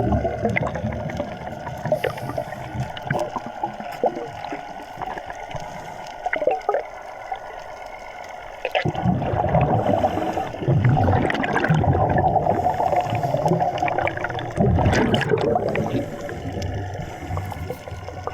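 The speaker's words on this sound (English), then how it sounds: "you can hear that boat is just hovering around on top of me" A boat engine heard underwater while diving in the Florida Keys drones and churns through water, muffled and steady, growing louder partway through amid gurgling and bubbling.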